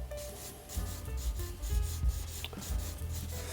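Sandpaper rubbing plastic model kit parts from a large Raideen robot kit, a soft, close scratchy scrubbing in uneven back-and-forth strokes over a quiet low hum, no voices.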